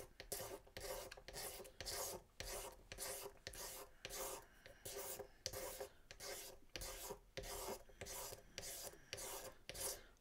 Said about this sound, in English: I'm going to take that razor blade and scrape it some more